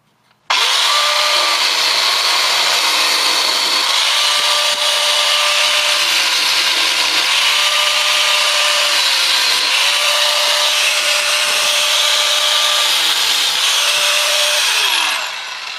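A power tool cuts into the metal housing of a Husqvarna FT-900 tiller transmission, a loud, continuous high-pitched whine and grinding sustained for about fifteen seconds before it winds down at the end.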